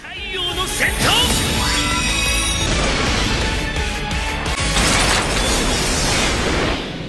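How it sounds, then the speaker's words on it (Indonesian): A heated pistol bursts into an explosion in a fantasy fight scene, a loud continuous crashing blast full of rumble and debris clatter, with dramatic effects and voice underneath throughout. "Dengan menggunakan pistol serta memanaskannya, membuat pistol itu pun meledak dan berhasil melukai Deep Dragon."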